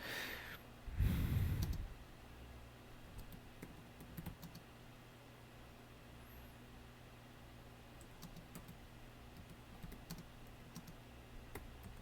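A computer keyboard is typed on quietly while programming, with a burst of breath or sigh near the start followed by sparse, soft key clicks and taps at irregular intervals over a faint background.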